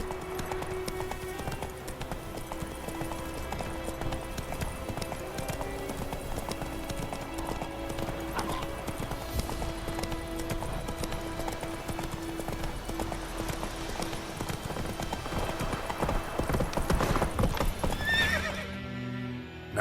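Roach, a horse in The Witcher 3, gallops with loud rhythmic hoofbeats and lets out whinnying neighs, with faint in-game voices under the clatter.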